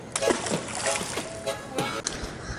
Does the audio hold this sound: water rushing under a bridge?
yes